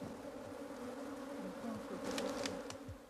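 Honey bees from a strong, dark colony on Kilimanjaro hum around an opened hive full of brood, a dense steady buzz close by with individual bees droning past.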